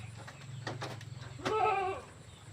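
Young Javanese goat kids, about two months old, bleat in a short wavering call that rises near the end, with a faint earlier cry and a low steady hum underneath.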